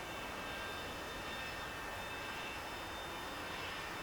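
An A-4E Skyhawk jet engine idling after a cold start on shore in a flight simulator, a constant dense roar with a high whine, steady and unbroken throughout.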